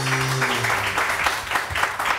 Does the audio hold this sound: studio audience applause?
yes